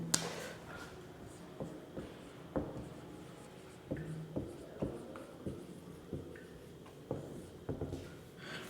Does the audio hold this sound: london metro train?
no